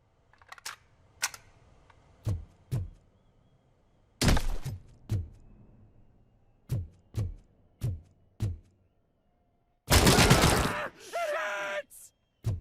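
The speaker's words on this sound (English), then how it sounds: "Shots!" Gunfire in the RoboCop: Rogue City video game, sharp isolated shots with gaps between them, close and loud, then a dense longer burst near the end.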